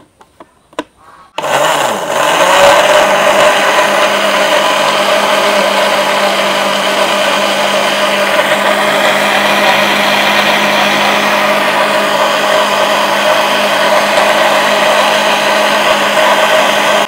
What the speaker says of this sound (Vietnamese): Giờ cái phần này mình sẽ cho vô máy xay sinh tố mình đánh lên nha cả nhà.